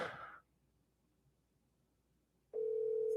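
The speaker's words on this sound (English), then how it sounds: "Nobody's picking up their phone." An unanswered phone call: a short ringback burst at the start, a silent gap, then a loud steady tone returning near the end, with no voices.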